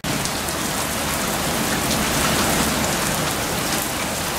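Heavy rain pouring during a thunderstorm, a dense, constant hiss of drops striking surfaces that starts abruptly and stays loud and even throughout, with no speech.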